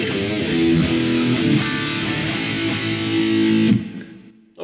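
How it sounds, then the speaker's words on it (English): An electric guitar plays through a PV Bandit amp model on a Quad Cortex, giving loud distorted sustained chords with a few picked accents, close and alone, ending in an abrupt stop and brief silence. "Okay, so the PV Bandit sounds like this."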